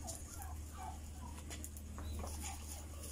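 Ducks quacking in a rural outdoor setting, a series of short nasal calls fairly near and moderately faint over a low steady hum, with no talking.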